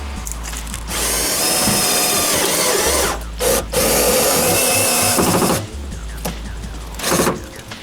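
A power drill drives screws into the sill panel of a Fiat Seicento 900, loud whining bursts of several seconds separated by short pauses, close and without talk.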